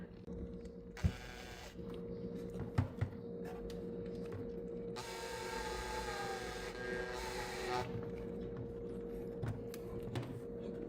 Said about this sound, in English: And now I'm going to go ahead and just screw it in here.